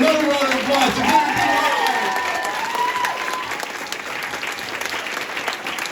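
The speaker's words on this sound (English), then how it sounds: "Another round of applause to Bereit." An audience at a Catholic talk applauds steadily, a dense wash of clapping with some voices and a few whistles early on, fading slightly over several seconds.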